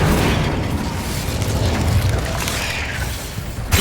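Incendio fire spell in Hogwarts Legacy, a dense, roaring whoosh of flame with deep rumbling booms that stays loud and steady throughout, ending in a sharper burst.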